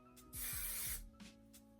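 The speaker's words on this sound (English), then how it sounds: "There's like spray everywhere." Hair spray hissing from a can in one steady burst of about half a second, close and fairly quiet, with faint soft clicks and rustling before and after.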